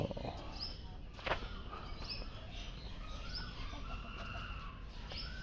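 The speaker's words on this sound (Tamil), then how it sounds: "Jungle form, red jungle form." Red junglefowl calling amid a lively chorus of chirping birds in a park in Vadodara, with steady outdoor ambience throughout.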